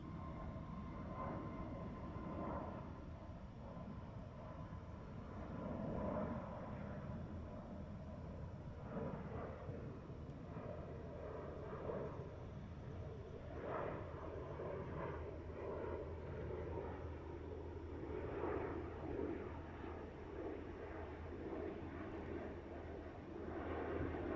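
A Lufthansa airliner departs runway 09R at London Heathrow, its engines producing a steady, moderately distant roar with a low rumble that holds throughout, and no one speaks over it.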